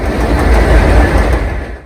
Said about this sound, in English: The rumble of the 6 train muffling their prayers.